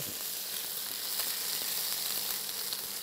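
Whole garlic cloves sizzle in a pan for a Bengali-style mutton stew, giving a steady, even crackling hiss that runs unbroken from start to finish with no voices.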